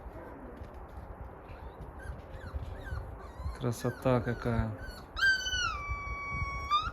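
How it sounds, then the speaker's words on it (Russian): Young wolves whimper and yip, rising into a thin, drawn-out howl near the end, while a person speaks briefly. "Ну, волки воют."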